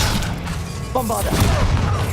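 Bombarda explosion spell in Hogwarts Legacy: a loud booming blast with rumbling debris, following a short shouted incantation.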